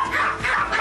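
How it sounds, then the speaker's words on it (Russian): A small German spitz gives a quick, ringing bark with a yappy high edge, close and fairly loud, filling most of a brief moment with no talk over it. "Звонкий немецкий шпиц"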